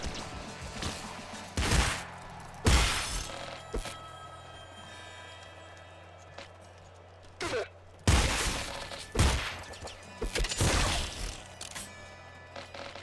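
Hyper launcher weapon firing in the video game Nuclear Throne, a series of sharp booming blasts with crashing explosions in irregular bursts, loud against a low electronic game hum.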